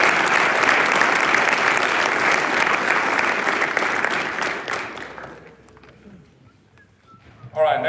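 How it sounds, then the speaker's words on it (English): An awards-ceremony audience claps for senior football players, a dense burst of steady applause lasting about five seconds before tapering off into a quiet room, followed by a brief voice. "Please give them a round of applause."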